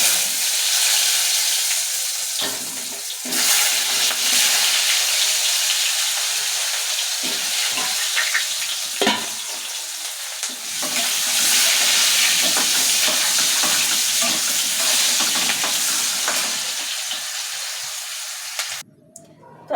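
Potatoes fry in hot mustard oil in a pan, a steady loud sizzle with hissing steam and occasional scraping as they are stirred, continuous for the whole stretch before cutting off near the end.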